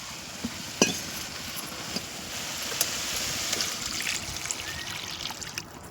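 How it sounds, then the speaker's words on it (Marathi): Cold water is poured from a pot while fish is cooked on a wood-fired stove on a farm in the evening. A steady trickle and splash is broken by a few sharp clinks, close and with no one talking. "तर गारच पाणी ओतते आता मी"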